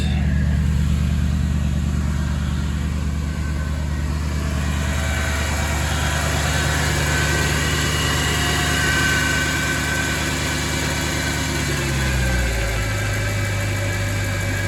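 A Mercedes-AMG engine idles steadily and loudly up close, a deep continuous drone with a slight vibration; near the end the idle note drops lower as the revs settle.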